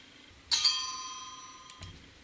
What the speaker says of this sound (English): Van Moof bell sound.